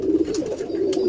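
Young pigeons coo in a low, continuous burbling drone, close and clear, with a couple of brief scuffling sounds in between.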